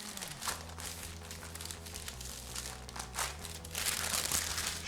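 Baking paper crinkles and rustles softly as it helps roll puff pastry around a stuffing wellington in a kitchen, faint irregular crackles over a low background hum.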